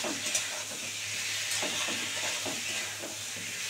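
Prawn and pumpkin masala fries in a pan with a steady, close hiss and faint repeated stirring scrapes underneath. No voices are heard.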